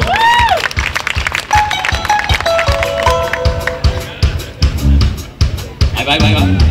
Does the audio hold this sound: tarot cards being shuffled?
no